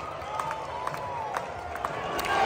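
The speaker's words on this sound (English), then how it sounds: "People, the crowd's into it now." Crowd at an Orioles versus Athletics baseball game, roaring after the Orioles take the lead on a double: a steady wash of cheering with a few sharp whistles, swelling louder toward the end.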